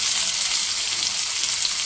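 Onion and capsicum frying in hot mustard oil with mustard seeds for an egg roll, a bright, constant, close sizzle with a crackling texture and no voices.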